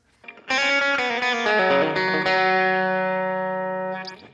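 Distorted electric guitar plays a short lead riff of quick picked and slurred notes, then lets the final chord ring out and slowly decay.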